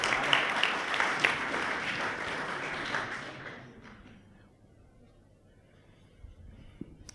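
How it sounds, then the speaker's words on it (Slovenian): Audience at a startup event applauds a guest, a lively burst of clapping that fades out after about three and a half seconds, leaving near silence with a couple of small knocks near the end. "En aplavz za Marko"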